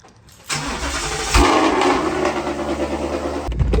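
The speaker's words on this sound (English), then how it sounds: "Let's start up the car, a little cold start" A Ford Mustang GT engine cold-starts with a brief cranking whir, then catches into a loud, steady rumbling high idle that flares once before settling, close-up and with no talking.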